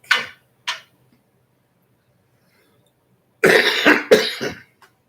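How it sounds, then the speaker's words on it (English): A person coughs indoors: two short sharp coughs at the start, then after a pause a harsher burst of several coughs and a throat clear, loud and close, with no talk over them. "excuse me for coughing."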